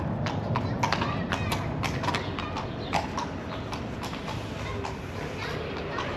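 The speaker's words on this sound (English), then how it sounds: "there's a guy on a horse" A horse's hooves clip-clop on a street in Belem, Lisbon, a steady series of hard knocks under busy outdoor ambience with some talking nearby.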